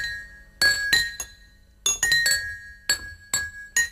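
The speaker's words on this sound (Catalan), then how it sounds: "s'han portat el xilòfon de vidre només per delitar-vos amb el seu so" A glass xylophone rings out in a series of bright, clear struck notes, about a dozen strikes with some in quick pairs and others spaced apart, each leaving a short shimmering decay, heard alone.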